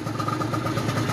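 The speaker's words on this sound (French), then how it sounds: "là je vais actionner le starter, comme ça on va mettre un petit coup de cric pour démarrer tout ça" A nitro 70cc scooter engine, modified to stage 6, runs with a steady, dense, rattling buzz right after being kick-started, close and loud with no pauses.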